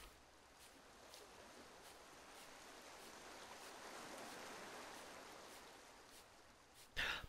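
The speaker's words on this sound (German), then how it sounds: "Hier, ja, da ist der Bach." Stream flowing in the video game The Clearing, a soft continuous rush of water swelling slightly toward the middle, steady and faint, with a brief sharp burst near the end.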